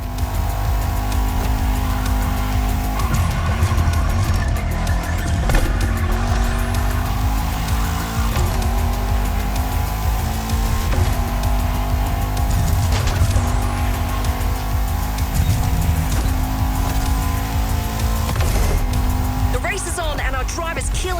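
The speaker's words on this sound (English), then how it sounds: "These cars are both able to reach insane speeds." Supercars race in the Motorfest video game on PS5, engines howling and shifting pitch as they accelerate, with tire squeals and skids breaking through and a voice talking over the continuous loud roar.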